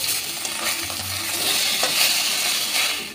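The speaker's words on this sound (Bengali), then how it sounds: "তেলে অল্প একটু লবণ ছিটিয়ে আমি মাছটা ভেজে নেব।" A small fish, chara pona, sizzles as it fries in hot oil, a dense steady crackle with a soft metallic clink near the middle, close and continuous without talk.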